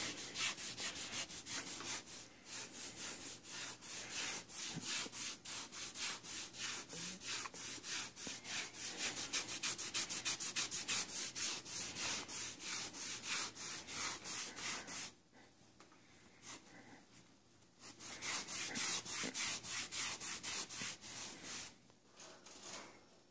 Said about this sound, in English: I'm gonna keep rubbing it in.